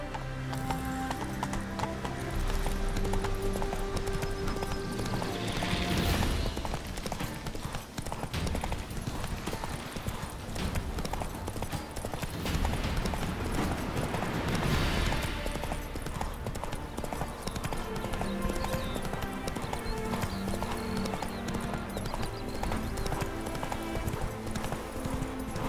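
The horse Roach trotting in The Witcher 3, with a steady rhythmic clip-clop of hooves over a dense game soundscape, plus a brief whinny, close and continuous.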